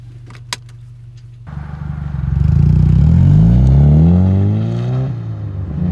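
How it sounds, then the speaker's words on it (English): A modified Mazda NC Miata cranks and fires up after a key jingle, its engine rising to a loud rev and then settling into a rough, throaty idle, close by with no talk. "Start up the Miata. Not stock, by the way."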